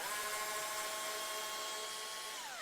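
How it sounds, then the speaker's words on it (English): An electric screwdriver with a torque setting runs continuously on a left-handed Fender USA Jazzmaster guitar, a steady whining motor tone held close, then its pitch drops as it slows near the end, with no talking. "screwdriver with the torque setting"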